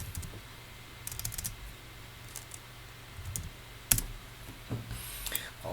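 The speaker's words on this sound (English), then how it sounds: "go to your terminal and type bundle" A command is typed on a computer keyboard: a few sparse, quiet key clicks come in small clusters, with one sharper tap, over a faint room hum.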